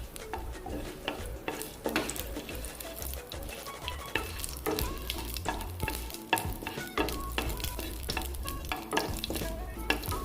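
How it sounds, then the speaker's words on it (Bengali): Whole cumin seeds fry in oil in a pan while a utensil stirs and scrapes repeatedly, producing crackly sizzle punctuated by close metallic clinks in an irregular rhythm. "জিরেটাকে একটু ভাজা ভাজা করতে হবে।"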